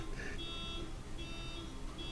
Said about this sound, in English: This car alarm, of course